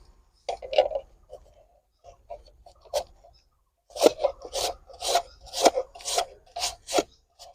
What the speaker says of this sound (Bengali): এবার আমি এই আলুগুলোকে গ্রেটারের সাহায্যে গ্রেট করে নেব